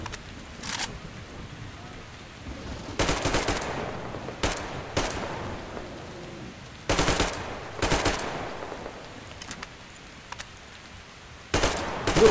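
Gunfire in Metro Exodus, several bursts of rapid automatic shots between quieter gaps, sharp and loud against a faint hiss.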